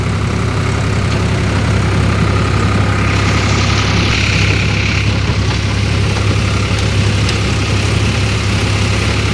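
A steady, loud Swaraj 744 FE tractor engine drones continuously with a deep low rumble and a rough mechanical churn while running a double-shaft rotavator on a farm, close by and unbroken throughout.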